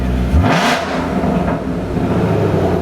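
A car exhaust in track mode barks loudly as the engine revs hard once, then settles into a deep, rumbling idle.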